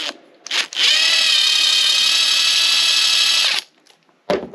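A power trimming tool cuts a 25-45 Sharps brass case, a steady high-pitched whirring grind lasting about three seconds, close and loud, framed by short handling clicks.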